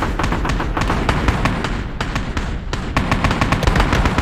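Video game gunfire: rapid, sustained bursts of loud shots and thuds crowd together in a relentless close-up barrage, with only a couple of brief gaps in the shooting and no talking.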